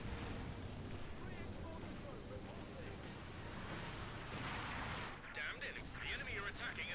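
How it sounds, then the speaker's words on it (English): In Company of Heroes 2, a light infantry gun fires an incendiary artillery barrage. Faint, distant booms and crackling impacts rumble continuously under a dense wash of battle noise. "More incendiary artillery barrage there from HerrOber's light infantry Geschütz"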